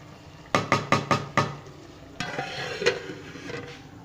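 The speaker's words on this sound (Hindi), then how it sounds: "साथ साथ हमने कड़ी को भी हिलाते रहना है ताकि नीचे ना लगे" Kadhi in a pot is stirred with a spoon: five sharp, evenly spaced knocks against the pot, then a softer, continuous scraping and bubbling stir, close and clear with no talking.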